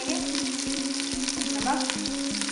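Whole spices sizzle and crackle steadily in hot oil in a pan for mutton yakhni pulao, a close continuous fry with faint stirring and no talking.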